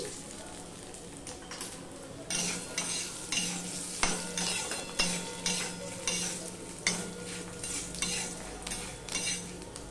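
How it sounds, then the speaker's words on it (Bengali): Cornflakes frying in oil with salt in a pan at home for a crispy chire badam snack, a steady close sizzle broken by regular scraping stirs of a metal spatula against the pan, with no talking. "কটা কর্নফ্লেক্স রয়েছে সেগুলো ভেজে নিচ্ছি"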